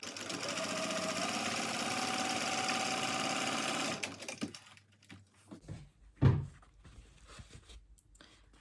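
Sewing machine stitching folded fabric with a 1/8 inch seam on a mini backpack, a steady close whirring run for about four seconds before stopping, followed by faint handling clicks and a soft thump.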